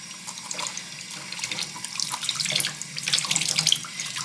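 Cool or tepid water runs from a tap into a sink while makeup brushes are rinsed, a steady close splash that swells and churns louder toward the end, with no speech.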